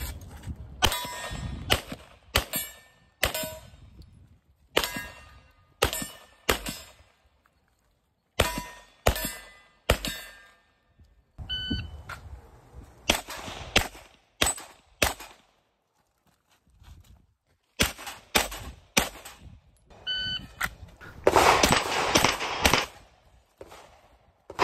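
A rifle fires 147 grain subsonic ammunition at steel targets during a day and night shooting match, with repeated loud shots each followed by a ringing clang from the steel, spaced irregularly in bursts over time.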